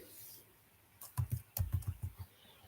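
Python code being typed on a computer keyboard: after a quiet start, a quick burst of clustered key clicks, close and crisp, with no talking.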